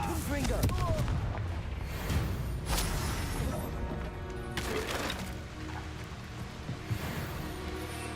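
Confringo fire spell cast during combat in the game Hogwarts Legacy, with loud repeated booming blasts and crackling bursts over a continuous rumble and scattered battle effects.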